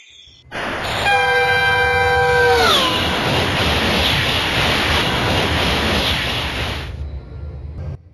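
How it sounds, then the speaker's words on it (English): Train in the Euro Train Simulator 2 game: a loud horn blast opens, then a steady rumbling hiss of the train running continues for several seconds before cutting off, with no talking. "Driving a train is very easy."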